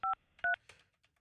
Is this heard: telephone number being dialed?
yes